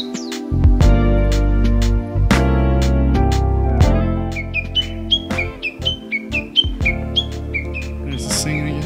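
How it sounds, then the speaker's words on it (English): Birds chirp and sing in a secluded Japanese garden, a run of bright, clear calls rising over a strong low hum in the first half, then quicker, lighter chirps that come close and fairly loud. "Can you hear the birds?"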